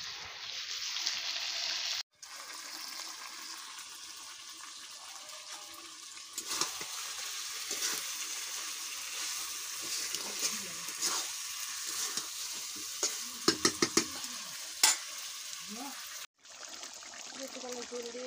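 Chicken sautéed and stirred in a pan gives a continuous close sizzle broken by scraping stirs and a couple of brief pauses, with louder clattering scrapes near the end.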